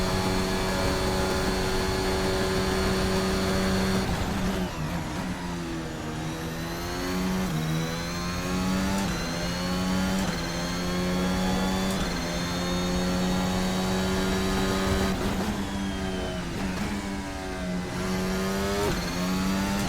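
A VRC Formula Alpha open-wheel race car engine in a racing video game sings at high revs for the whole stretch, with sharp dips on downshifts and quick climbs back as it accelerates out of corners.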